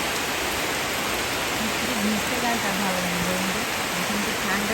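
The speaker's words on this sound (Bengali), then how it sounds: "বৃষ্টি হচ্ছে" Rain falls steadily in a dense, even hiss that continues unbroken, with a faint voice-like tone drifting underneath in the middle.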